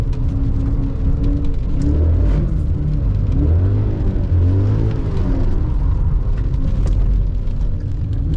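A high-mileage Dinan-tuned BMW E39 M5 rumbles steadily from inside the cabin while driving in the rain, a loud continuous low engine drone with gentle rises and falls in revs and no talk.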